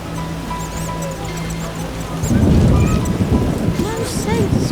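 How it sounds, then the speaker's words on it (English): Heavy rain and thunder in The Witcher video game: a low rumble and hum give way to a loud, dense wash of downpour with deep thunder rolling beneath, and faint game sounds mixed in. "Raining cats and dogs."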